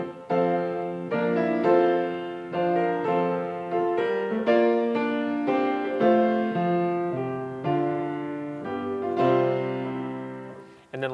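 A choral anthem opening: a sustained, harmonically rich melody moves in bold, stately phrases with a brassy trumpet-fanfare character, each note held and swelling without any speech.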